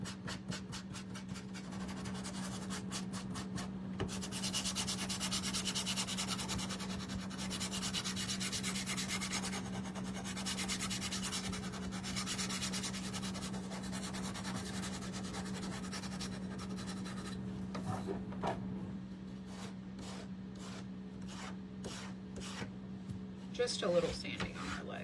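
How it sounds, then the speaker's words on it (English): Steady rasping strokes of sandpaper rubbing over small wooden duck craft pieces, close up and continuous, with a low hum underneath and a few sharper scrapes near the end. "But first I want to sand my ducks"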